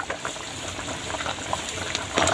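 Fish curry boils with fried spice paste stirred in: a continuous close bubbling and popping that swells slightly louder toward the end, with no voices.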